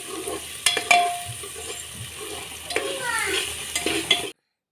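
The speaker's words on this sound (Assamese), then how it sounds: "পিঁয়াজখিনি আপোনালোকে এনেকৈ অলপমান ৰঙচুৱাকৈ ভাজিব" Onions fry in a pan for a local chicken curry, a soft sizzle under clinks and scrapes of a spoon stirring against the metal, close and moderate, ending abruptly.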